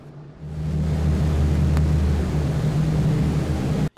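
B-17 Flying Fortress engine from a video game winding up from quiet into a steady low drone with a deep hum, holding loud for several seconds before cutting off abruptly.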